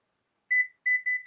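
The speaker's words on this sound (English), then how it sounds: "excuse the beeping that you're going to hear in a second." A microwave oven beeps three times in a quiet room, two long tones and a shorter one, followed by a brief click.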